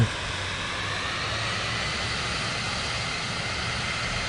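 A plane taxis in Microsoft Flight Simulator 2024, its engine holding a steady, loud whine and hum with an even droning roar throughout.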